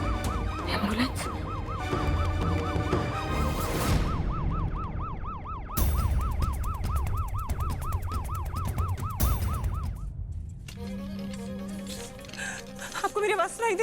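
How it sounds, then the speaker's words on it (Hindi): An ambulance siren wails in rapid, repeating up-and-down cycles, loud and close, with voices talking over it and a brief break midway. "एम्बुलेंस।"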